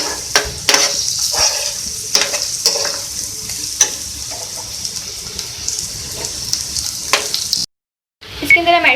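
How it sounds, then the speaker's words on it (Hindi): Red chillies and curry leaves are sautéed in hot oil in a pan, giving a loud, close sizzle with repeated scraping stirs. The frying cuts out abruptly near the end, then resumes briefly. "कड़ी पत्ते, इसको हम सॉटे कर लेंगे।"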